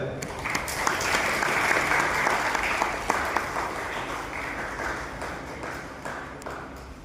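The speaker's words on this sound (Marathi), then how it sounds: "पुन्हा एकदा जोरदार टाळ्या होऊ द्या" Sustained applause from an audience at a book launch ceremony, dense clapping that swells and continues steadily for several seconds before slowly tapering.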